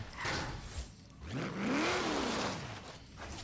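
Car in a racing video game at a qualifying session, engine revving up and down in a rising then falling sweep, moderately loud, with no talk.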